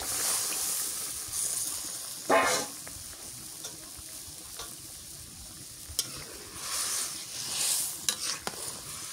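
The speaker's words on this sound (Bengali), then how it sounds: "এখন এই যে কষান করে মাছগুলো দিয়ে দিই" Fish being sautéed in a pan for a village-style fish curry, a steady loud sizzle and hiss with bursts of stirring scrapes throughout, no voices.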